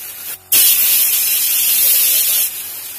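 A modified spray gun spraying with fine atomization, a loud close steady hiss that cuts in suddenly after a short pause and runs for about two seconds before dropping back to a softer hiss.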